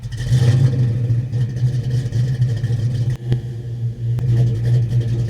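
A Fox Body Mustang V8 idling with a deep, steady exhaust rumble from Flowmaster Super 40 mufflers, heard up close and continuous with slight fluctuations.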